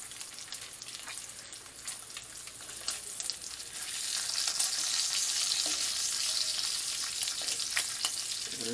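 Bacon fries in a pan with a dense, crackling sizzle that swells louder partway through and then holds steady, with no talking.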